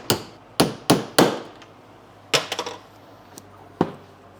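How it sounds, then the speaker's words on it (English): A hammer strikes blind rivets into the housing of a 2008–2013 BMW X5 E70 headlight, with sharp, close metallic taps: four quick hits, a short pause, a rapid cluster of lighter blows, then two scattered final strikes. "Helps if you actually hit the hammer."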